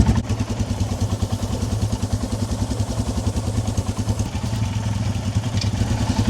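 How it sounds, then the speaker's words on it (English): A motorcycle engine idles steadily nearby with a fast, even mechanical pulse and light clatter, running on while its rusty, road-salt-affected chain is being cleaned. "It's one thing putting cleaner on with the bike running"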